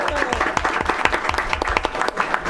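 Dense, steady applause from an audience at a school board of education meeting, honoring a school board member; the clapping stays loud and continuous throughout, with no pause.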